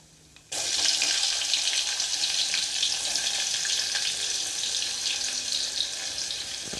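Chopped onion dropped into a hot pan with cumin already frying, giving a sudden loud hiss that settles into steady, close sizzling while cooking an Udupi-style sambar.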